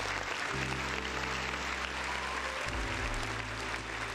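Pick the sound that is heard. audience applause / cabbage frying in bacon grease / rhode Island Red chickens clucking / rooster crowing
audience applause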